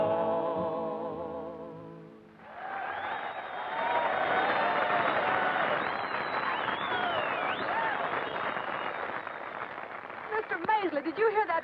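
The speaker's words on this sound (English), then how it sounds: "did you hear that crowd cheering?" A rodeo show crowd roars and cheers in a broad, sustained swell that rises after a sung cowboy line and holds loudly, with a voice cutting in near the end.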